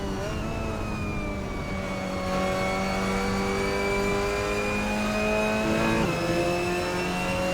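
Mazda MX-5 race car engine in the Assetto Corsa racing game at Watkins Glen: a loud, continuous buzzing engine note rising and falling in pitch through gear changes, with steady tyre and road noise and no voices.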